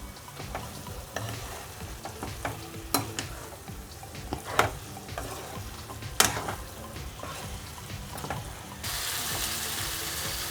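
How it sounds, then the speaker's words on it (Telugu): Mutton and potato curry with chili powder being stirred in a pan: steady sizzling and frying with scraping stir strokes and a few sharp clinks, close and fairly loud, ending in a broader hiss. "ఇప్పుడు ఒకసారి బాగా మిక్స్ చేసుకుందాం."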